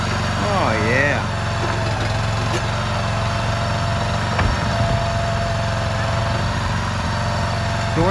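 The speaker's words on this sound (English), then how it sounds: "Doing a burnout." A vehicle engine revs hard during a burnout, a steady loud drone with a rising-and-falling rev sweep near the start, while people talk over it.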